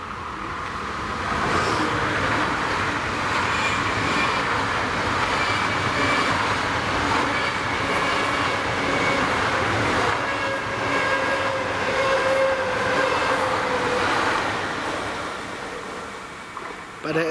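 A Siemens Mireo Class 463 S-Bahn train on the S-Bahn Rhein-Neckar S9 line passes a level crossing in Biblis, giving a loud, steady rumble of wheels and motors that swells and holds close by before easing off near the end.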